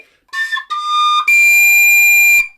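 A tin whistle sounds bright, pure high notes in three steps, two brief tones and then a long sustained high D held steadily, close and loud with no talk.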